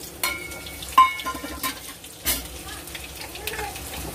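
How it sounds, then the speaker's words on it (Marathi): Garlic fries in a pan with a light, steady sizzle, broken by sharp spoon taps and scrapes against the metal as cumin goes in for tempering. "इथे लसूण पण तळला त्यात आपण जिरं टाकू"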